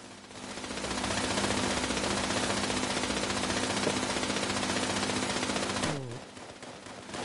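Sustained automatic gunfire in the Fallout video game, a loud, dense rattling burst lasting several seconds before cutting off abruptly into quieter background.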